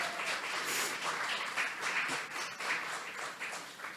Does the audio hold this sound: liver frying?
no